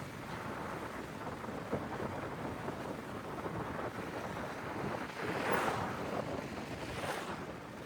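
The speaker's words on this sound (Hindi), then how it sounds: "मेरे दायां तरफ सतलुज नदी बह रही है" The Sutlej river flows beside National Highway 5 on the road from Shimla toward Spiti in the Himalayas, a steady broadband rushing roar mixed with wind, continuous and fairly loud for the whole stretch.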